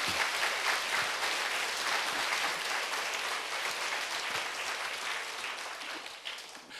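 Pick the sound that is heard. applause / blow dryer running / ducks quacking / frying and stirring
applause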